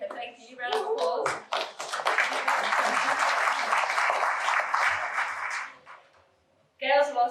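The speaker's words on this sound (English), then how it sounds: "Round of applause." An audience at a talk on collaborative farming bursts into sustained applause, many hands clapping together for several seconds before fading, with a voice speaking after the clapping dies away.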